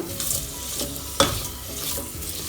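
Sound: vegetables sautéing in butter for pumpkin soup

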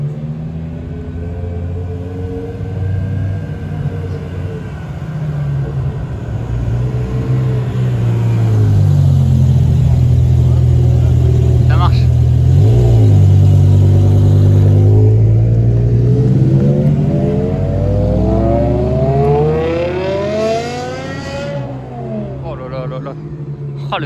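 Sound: BMW M5 V10 engine revving as car arrives

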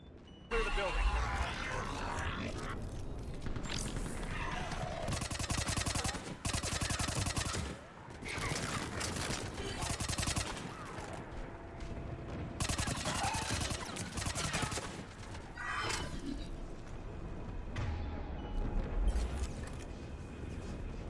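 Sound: heavy gunfire in the video game Mass Effect 3

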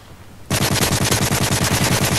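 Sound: MP7 submachine gun firing in a video game

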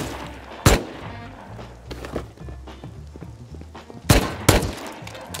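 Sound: gunfire in Rust video game

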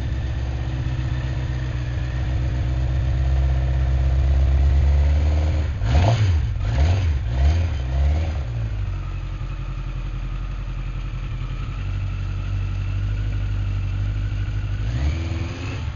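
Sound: Yamaha FJ1200 motorcycle engine idling

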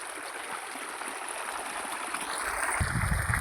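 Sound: motor pump drawing water from a well

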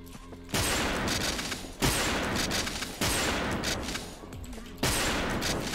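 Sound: sniper gunfire in video game WolfTeam

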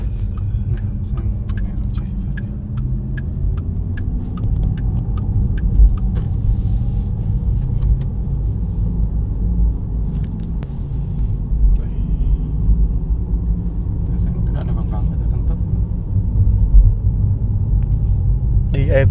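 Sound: Porsche Taycan Turbo S accelerating

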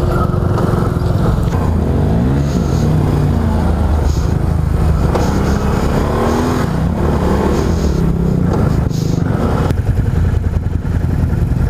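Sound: Can-Am Renegade 1000 ATV engine revving

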